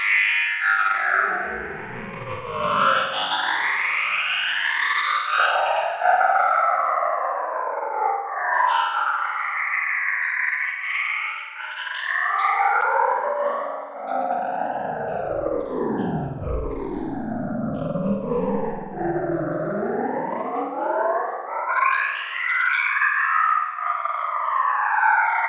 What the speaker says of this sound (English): I'll set the filters behind, after the phaser and before the frequency shifter.